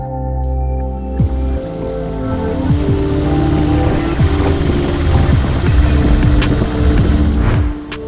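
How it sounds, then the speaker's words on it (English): Motorbikes ride along a scenic mountain road on the Beechmont Loop, their engines droning and rising in pitch as they pass, loud and close with a continuous low rumble and no talk. "We are definitely a destination for a lot of the motorbike riders, as you can hear in the background."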